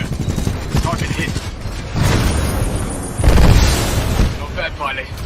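An enemy Titan blowing apart in Titanfall 2, heavy booming blasts and rumbling bursts layered with gunfire and clanking mechanisms, loud and close, with a voice speaking over the battle.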